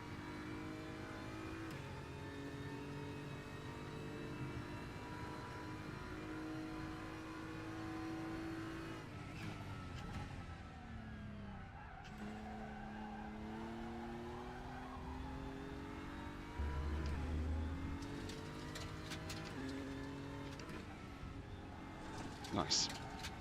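DTM race car engine in the RaceRoom sim racing game, a sustained droning whine that climbs in pitch, drops at upshifts and climbs again, heard continuously under occasional talk.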